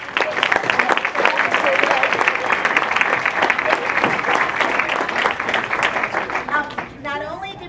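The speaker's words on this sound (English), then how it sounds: "Give all the reporters a huge hand of applause." Sustained crowd applause at a student leader conference, honoring the reporters who presented. The clapping is loud and steady, with cheering voices mixed in, and it tapers off near the end.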